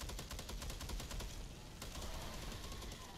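Turrets in the game Warhammer 40K Deathwing fire rapid, continuous automatic bursts, a dense rattling stream of shots that holds at a steady loudness for about three seconds.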